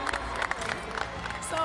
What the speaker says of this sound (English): can we get a big cheer in the audience?